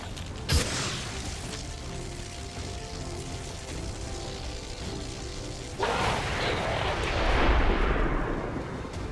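Explosions boom in the tactical video game XCOM 2, a sharp blast followed by rumbling, and then a second, louder roaring detonation that swells and lingers.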